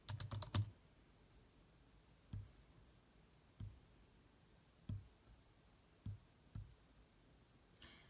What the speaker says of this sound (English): I'm just gonna randomly click some answers